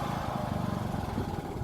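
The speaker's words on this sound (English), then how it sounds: "this sit-down lawnmower slash desert tractor with the trailer has been life-saving" A sit-down lawnmower tractor pulling a trailer runs at a steady, low idle-to-mid engine drone, close by and alone, with slight fluctuations in its motor pulse.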